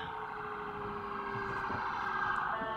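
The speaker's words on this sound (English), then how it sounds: "You hear all those sirens, though?" Emergency vehicle sirens wail outside in a steady, sustained tone, heard from a distance through a room with faint background rumble and no talking.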